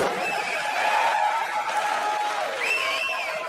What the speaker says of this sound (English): There's a reason people are cheering.